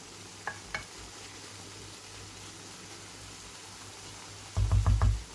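Green and kapya peppers sauté in a pan for a potato karnıyarık dish, a steady close sizzle and hiss throughout, with a couple of light utensil clicks and a brief louder low thumping near the end.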